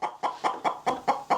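A hen clucks inside a hen house, seven sharp rhythmic clucks in steady succession at close range, loud and clear with no other sounds.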